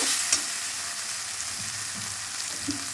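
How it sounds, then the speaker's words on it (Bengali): Turmeric, red chili and Kashmiri chili powders sizzle and fry in a hot pan for a Bengali egg curry (dimer kalia) as a spoon stirs them, a steady close hiss with a few soft scraping strokes and no talking. "নেড়ে চেড়ে"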